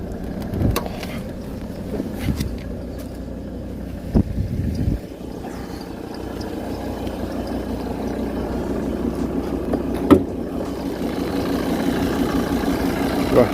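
A Volvo C70 D5 diesel engine idles with a steady low rumble, joined by wind buffeting and a few knocks and thumps nearby.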